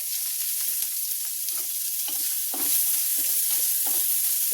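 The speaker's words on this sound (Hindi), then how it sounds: "तो प्याज को भून लेते हैं।" Finely chopped onions fry in a pan with chillies for a garlicky spinach curry, a steady close sizzle under repeated scraping stirs of a spoon, with no talking.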